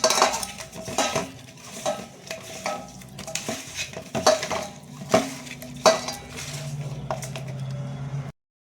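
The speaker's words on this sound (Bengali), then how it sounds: "লবণ দিয়ে মাছটাকে ভালো মতন কচলে কচলে ধুয়ে নেব।" Pabda fish being scrubbed with salt and washed by hand in a metal bowl, with close, irregular clatters, knocks and wet rubbing scrapes in uneven bursts.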